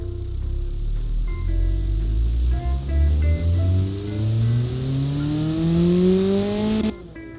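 An engine in the video game Automation revs up to 6,500 RPM, the pitch climbing steadily in a loud, continuous sweep before cutting off abruptly near the end.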